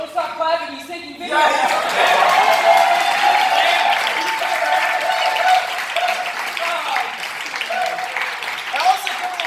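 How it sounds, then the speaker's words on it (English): An audience at an evening show breaks into a fresh burst of applause that swells and holds, with chatter and light laughter mixed in. "can we have a round of applause for our benefactors, patrons for this evening in Mashq, Ali and Hussein."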